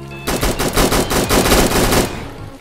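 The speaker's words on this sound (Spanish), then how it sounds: "Se escuchó una explosión a lo lejos" A time bomb explodes in a Roblox video game, a loud sustained crackling roar of rapid blasts lasting about two seconds before trailing off.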